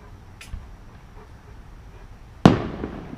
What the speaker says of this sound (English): Fireworks from our deck.